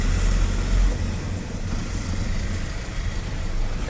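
A road vehicle's engine runs steadily with a low rumble while it is pulled over to the roadside, a continuous moderate hum with no voices.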